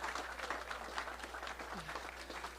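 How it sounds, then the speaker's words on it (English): Crowd applause at an outdoor civic event for a police inspector, steady faint clapping from a gathered audience sustained throughout with no voice over it. "Give Inspector O'Donnell a huge round of applause."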